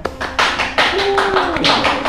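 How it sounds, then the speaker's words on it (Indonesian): Hands clapping at an indoor talk event for a lecturer, a short burst of close, fairly loud claps with a murmur of voices and a brief tone behind them. "Boleh tepuk tangannya?"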